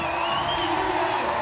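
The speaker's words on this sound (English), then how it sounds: "Crowd getting behind this one right now." A crowd at the Simple Session 2017 BMX street finals cheers steadily, a dense sustained roar of voices with whoops and shouts, at a constant loud level throughout.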